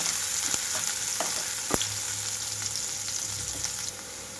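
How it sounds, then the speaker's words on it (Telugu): Onions fry on a high flame for egg Maggi masala, making a loud, constant sizzle close by. Sharp ticks and scrapes of stirring break through now and then, and no one speaks. "అందుకోసమే ఇక్కడ హై ఫ్లేమ్లో ఉంచి వేయించుకుంటున్నాను ఉల్లిపాయని"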